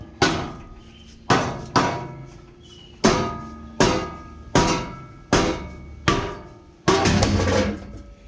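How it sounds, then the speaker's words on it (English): About seven heavy metallic whacks, loud and close, at an uneven pace, knocking a rusted catalytic converter off a Ford F150, each blow ringing briefly before the next. "a couple of whacks is all it took."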